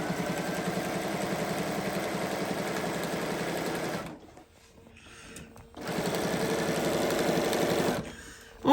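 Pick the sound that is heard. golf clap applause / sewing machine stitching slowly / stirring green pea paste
sewing machine stitching slowly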